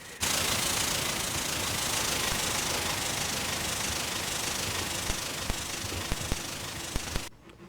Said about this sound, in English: Here we see a UP late Challenger testing on a coal train.